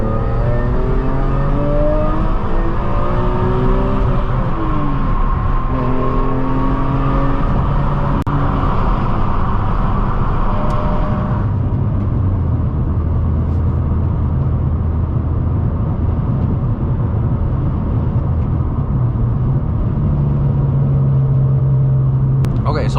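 A BMW E46 M3 CS with SMG gearbox drives on the road, its straight-six engine droning and rising under load, then the pitch drops at a gear change before building again, loud and steady from inside the cabin.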